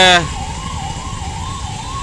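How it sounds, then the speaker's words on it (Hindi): Ambulance siren wailing steadily in a rising-and-falling pattern while the vehicle sits stuck in a traffic jam on the Mango bridge in Jamshedpur, with a brief burst of other noise at the very start. "इस जाम की वजह से एम्बुलेंस बहुत देर से खड़ी हुई है और इसी तरह से सायरन बज रही है।"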